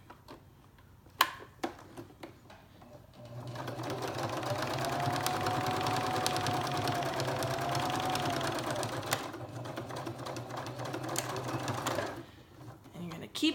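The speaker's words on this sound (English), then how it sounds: "you're gonna feed it through your sewing machine." A sewing machine stitches a denim coaster made from recycled jeans, running in one steady, close, whirring burst of about nine seconds, with a person talking briefly before and after.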